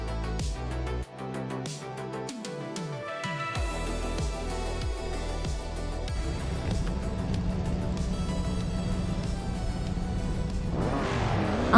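Vintage race cars, including a Lancia and a classic 1970 Ford Escort Mark I, roar off the start at Misano in a racing video game, engines revving and droning loudly together as the pack accelerates.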